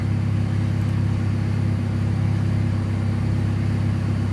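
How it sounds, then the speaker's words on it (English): B16-swapped 1989 Honda Civic engine running on a dyno on low cam without VTEC, a loud, steady, droning rumble with a constant even tone throughout, no voices. "that was low cam only"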